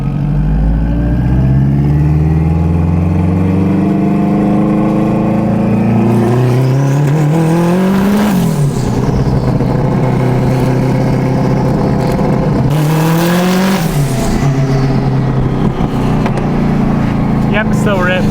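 A turbocharged all-wheel-drive Honda Civic accelerates hard on the move, its engine loud and close, revs climbing through the gears with two sharp shifts and rising pitch.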